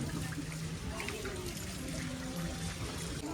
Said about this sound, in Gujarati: જમીનમાંથી પાણી પણ નીકળી રહ્યું છે